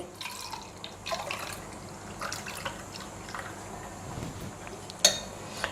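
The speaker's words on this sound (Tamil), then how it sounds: "இப்படி நல்லா கொதிக்கிற தண்ணியை நம்ம மேலாக இப்படி விட்டு விட்டு 4-5 தடவை வடிகட்டி எடுக்கணுங்க." Boiling water poured over tea leaves and strained several times, giving light splashing, trickling and drips with soft clinks of kitchenware, fairly quiet and close, with no talking.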